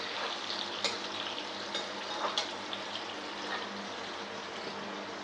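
Pieces of pointed gourd (parwal) fry in a pan as potato frying follows, a dense, even sizzle filling the clip with a few faint clicks of a utensil, close and steady, without speech.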